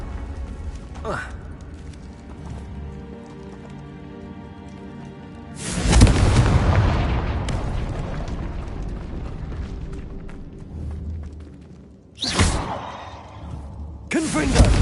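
Confringo blasting spell explosions in the Hogwarts Legacy video game, loud rumbling booms bursting in at intervals, the longest a sustained roaring blast, over game background noise.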